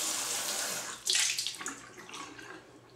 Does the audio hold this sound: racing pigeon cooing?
no